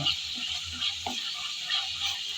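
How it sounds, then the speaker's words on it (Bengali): Ginger garlic paste sizzles softly in hot oil while being stirred in a pan for an amra pickle, with a steady hiss and a few light scraping knocks. "আদা রসুন বাটা আমি নেড়ে চেড়ে ভালোভাবে তেলের মধ্যে বেজে নিলাম"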